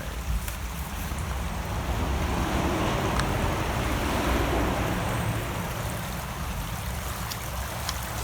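A river flows steadily past its bank in a constant, fairly loud wash of rushing water that continues without a break, mixed with some wind noise and no voices.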